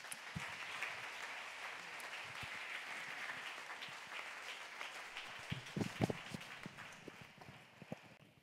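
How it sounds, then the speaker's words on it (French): A church congregation applauding to acclaim the Lord during a prophetic service, a fairly faint, sustained patter of many hands with some louder claps near the end. "Je souhaiterais qu'on acclame le Seigneur plus que cela."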